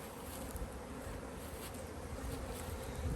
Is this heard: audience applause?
no